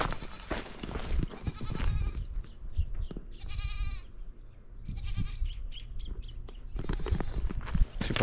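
Goats bleat in a small cave on the west coast of Hawaii's Big Island, several wavering calls rising over a noisy outdoor background with scattered knocks and shuffling.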